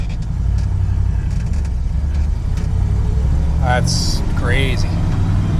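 A 1969 GMC truck drives with a low, steady engine rumble and then brakes, giving a couple of short squealing brake whines near the end, while someone talks over the engine.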